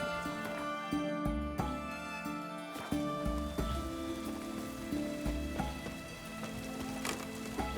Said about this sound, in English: It's damp. It's raining,